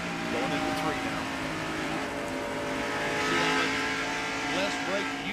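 Racing engine of a NASCAR Winston Cup stock car at the 1990 Heinz Southern 500, wide open at full throttle into turn 3, a loud steady roar with other cars and crowd noise mixed in and a voice talking over it.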